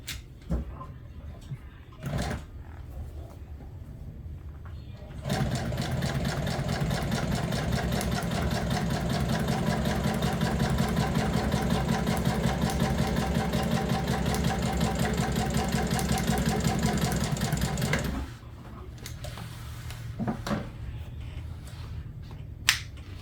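Sewing machine stitching a parallel pleat in upholstery, running as a steady rapid mechanical chatter for about thirteen seconds, with quieter handling clicks before and after.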